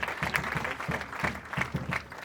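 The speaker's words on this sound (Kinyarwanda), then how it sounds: "Mukomeze mukomere Imana amashyi, amashyi n'ay'Imana." A church congregation clapping in a steady rhythmic beat, a brief run of evenly spaced claps from a crowd.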